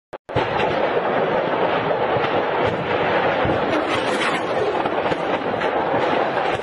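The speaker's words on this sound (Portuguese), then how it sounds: "presta atenção para você ver a quantidade de explosão secundária" Secondary explosions at an ammunition depot in war footage, heard as a loud, continuous roar of crackling and booming blasts, preceded by a short sharp bang, sustained and dense with no talking.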